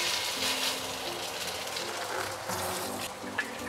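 A meat patty drops into hot oil in a pan over medium-low heat and sizzles with a steady, crackling hiss that holds at an even moderate level throughout.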